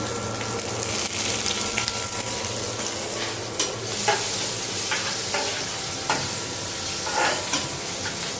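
Oil sizzles steadily in a pan while noodles are being cooked, with intermittent clinks and scrapes of stirring, close by and without talk.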